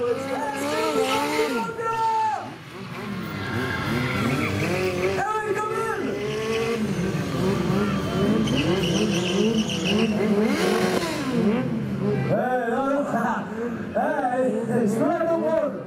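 A stunt car from an acrobatic driving team screeches through skids and spins, its tires squealing in long wavering wails over a revving engine, with crowd noise and talk mixed in throughout.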